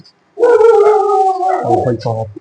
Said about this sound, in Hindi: कुत्ते आ गए हैं भाई, कुत्ते आ गए हैं